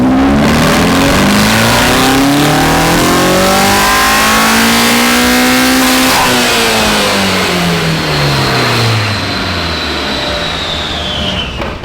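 A rear-wheel-drive swapped Honda Civic engine revs hard under throttle, its loud droning note climbing steadily in pitch, dipping briefly, then winding up again, close and continuous throughout.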